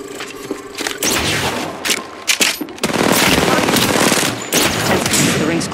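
Rapid automatic gunfire in the battle royale game Apex Legends on King's Canyon, loud bursts of fire and impacts in several clusters with brief pauses, close and dense.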